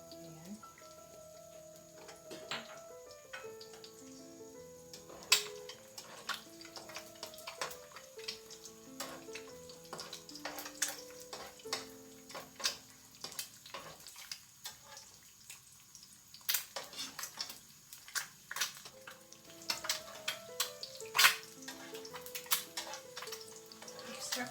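Corned beef frying in hot oil, spitting and splattering in a pan: irregular sharp pops and crackles over a steady sizzle, with a voice speaking at times.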